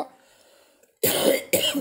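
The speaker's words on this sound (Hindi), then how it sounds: "आज थोड़ा खांसी हो रही है बार बार" Two harsh coughs close to the listener, one right after the other, following a moment of near silence.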